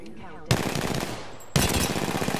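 Rapid automatic gunfire in a video game gunfight, two loud bursts of dense shots with a brief quieter gap between them.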